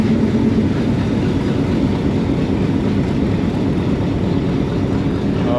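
Rawalpindi Passenger train pulling away from Golra Sharif Junction in the hills near Rawalpindi, a steady loud rumble of wheels and carriages rolling continuously with no voices.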